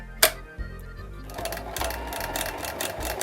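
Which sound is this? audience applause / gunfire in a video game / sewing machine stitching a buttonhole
sewing machine stitching a buttonhole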